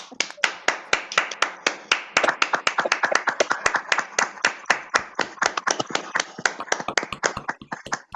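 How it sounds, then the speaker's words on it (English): Sharp, close hand claps ring out in a rapid rhythmic run with clear individual strikes, a small audience applauding at the close of a virtual Burns Night gathering hosted by Scottish country dancers. "one more round of applause"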